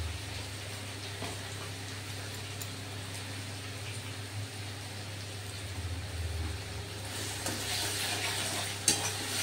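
Onion and garlic fry in a kadai with a continuous soft sizzle while a spoon stirs and scrapes, building to a few sharper clinks near the end.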